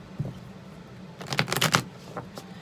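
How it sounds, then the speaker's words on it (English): Tarot cards are shuffled by hand in a quick riffling flurry of crisp papery flicks, with a few softer taps before and after, close and fairly quiet, with no talking. "Shuffling the cards."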